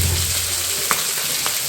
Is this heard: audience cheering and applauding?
no